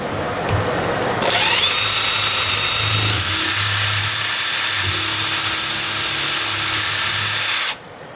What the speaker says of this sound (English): while he's screwing that one in